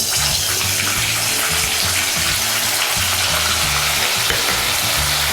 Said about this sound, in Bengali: আমার তেলটা গরম হয়ে গেছে, আমি এবার মাছটাকে ভেজে নিচ্ছি।